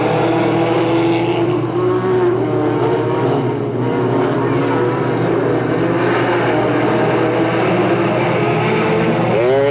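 Race cars at Delta Speedway in 1996 during a heat race roar continuously and loudly, engine tones rising and falling as they run side by side in a steady wash of motor noise.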